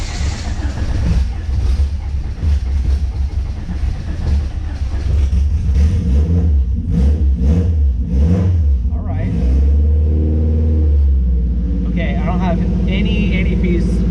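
A Honda H22 engine with a newly installed intake manifold cranks, catches and runs loudly nearby. Its rough, rumbling idle rises and falls with a few blips of revving, and excited talk is heard over it.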